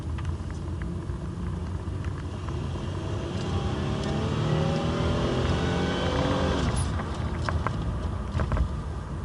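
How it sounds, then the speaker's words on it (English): Car with a 3800 series V6 engine making about 230 pound-feet of torque accelerating, a steady loud engine rumble that rises in pitch toward the end, heard from inside with no talk. "Accelerate's pretty nice. It's 230-pound torque, 3800 series V6."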